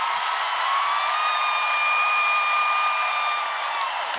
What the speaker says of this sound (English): give Holmes a nice round of applause